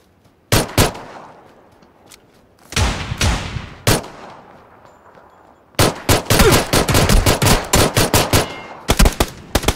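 Pistol gunfire in PUBG: loud, close shots in quick bursts separated by short pauses, ending in a long rapid string of cracks.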